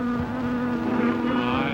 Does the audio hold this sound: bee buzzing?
yes